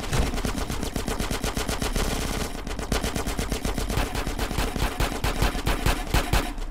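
Rapid automatic gunfire rattles in fast, steady bursts aimed at the player in GTA San Andreas multiplayer, loud and close, with only a brief pause partway through.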